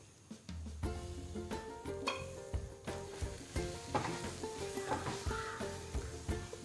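A spoon scrapes and stirs a thick rice flour and jackfruit mixture in a pan for Kerala jackfruit ada, making rhythmic close strokes over a soft sizzle.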